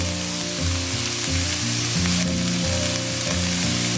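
Onions and spices fry in oil in a pan for samosa filling, with a steady close sizzle under a layered, pulsing hum from nearby appliances and no talk.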